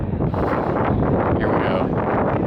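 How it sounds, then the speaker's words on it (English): Strong outdoor wind buffets the microphone with a steady, loud, broadband roar throughout, just outside a haunted house attraction. "I know it's super windy."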